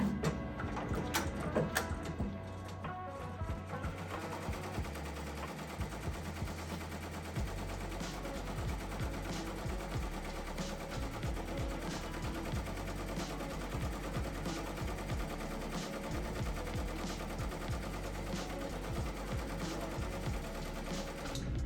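A Ricoma MT1502 embroidery machine stitching snapback hats and beanies, a loud, fast, continuous mechanical rattle of needle strikes that holds a steady rhythm throughout, with no talk.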